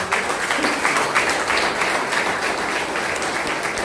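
Pentecostal church congregation clapping for the Lord, a dense, continuous burst of many hands applauding together, loud and steady from start to finish with no speech over it.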